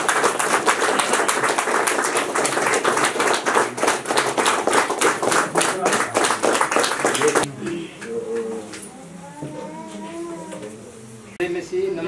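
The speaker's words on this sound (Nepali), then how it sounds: "एकदम ताली ताली ताली।" A group claps hands in a fast, steady rhythm, loud and close, for several seconds at the opening of the Emmanuel Prayer Tower in Pakharikot village, Pokhara; the clapping stops abruptly, leaving birdsong and cooing pigeons.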